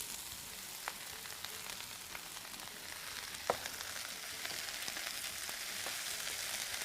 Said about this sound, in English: Now we will put the Chinese cabbage in and stir